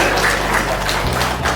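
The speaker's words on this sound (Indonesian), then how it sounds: "Tepuk tangan paling meriah." Audience applause at an administrators' capacity-building training session, a steady dense wash of clapping held at an even level throughout, with a low hum underneath.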